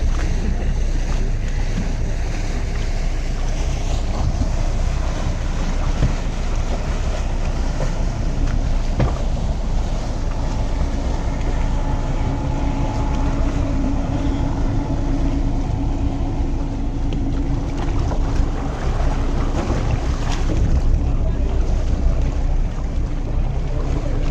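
A boat ride through the lagoon and canals of Venice, with steady wind buffeting the microphone over the constant rumble of the boat and the wash of the water, loud and continuous with no talking.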